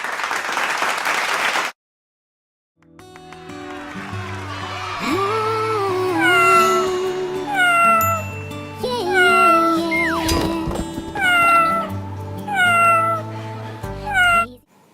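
A cat meows repeatedly in clear, rising-falling calls, loud and close, preceded by a brief burst of noise and a short silence.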